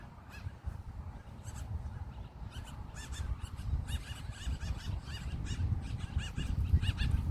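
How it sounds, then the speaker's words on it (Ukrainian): Birds calling near a riverbank with reeds, repeated short chirps and caws at a moderate distance over a low rumbling background. "Там пташечки бігають."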